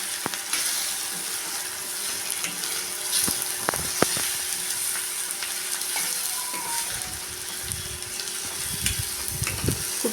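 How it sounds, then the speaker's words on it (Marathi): Onion and tomato fry with a constant crackling sizzle while masala is stirred through, a few sharp clinks and scrapes of the spoon against the pan, close and moderately loud with no talking. "कांदा टोमॅटो करपून झाल्यानंतर मसाले टाकून परत एकदा मिक्स करून घ्यायचं आहे."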